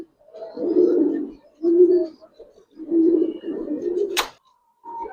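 Giribaz pigeons coo in a series of low, throaty bursts, several phrases close together, with a brief sharp click near the end and no talking.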